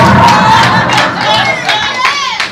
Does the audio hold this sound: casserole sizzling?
no